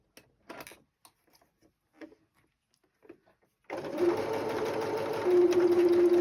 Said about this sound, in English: my machine has started going really slow at the beginning